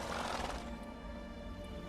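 A horse in The Witcher 3 game neighs in a brief, rough whinny at the start, fairly faint, then fades into a steady ambient game soundscape.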